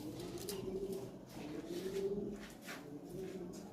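Lahori pigeons, including black shakers, coo in soft repeated low rounded phrases at close range, with faint chirps in the background.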